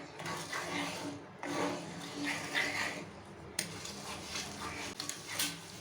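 A rusty iron pan is scrubbed, producing a run of close, scratchy metallic scraping strokes and clatters with brief pauses between bursts, fairly soft overall.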